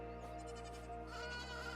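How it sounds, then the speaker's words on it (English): A baby sheep bleats in the video game AER: Memories Of Old, one steady, drawn-out call heard close and clear over a sustained musical backdrop. "Oh, baby sheep."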